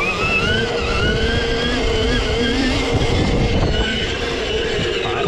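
An electric trials bike motor in its red power mode whines steadily and continuously up close, with a sustained high electric tone over rough broadband rumble and wind, with no pauses.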